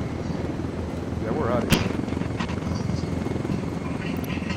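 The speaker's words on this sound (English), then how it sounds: "Oh, there's two attack choppers." Two attack helicopters in the game Ghost Recon Wildlands make a steady, thudding rotor drone with a sharp crack of gunfire partway through, while someone talks over the noise.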